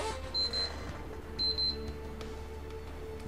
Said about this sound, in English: There's the alarm telling me that it is time to end the first video